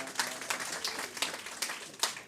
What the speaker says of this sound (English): let's give a round of applause for helping us out